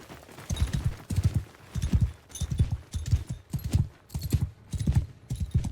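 Horse hooves from Mount & Blade II Bannerlord gallop in a steady repeating clip-clop rhythm, close and fairly loud, with a brief whinny and no talking.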